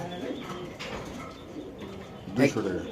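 Pigeons cooing softly in a low murmur at a pigeon market in Meradia, Dhaka, with people talking nearby over the calls.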